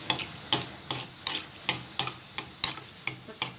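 Gulab jamun dough balls fry in hot oil with a soft sizzle, punctuated by a regular series of sharp ticks and pops roughly every third of a second, close and fairly quiet.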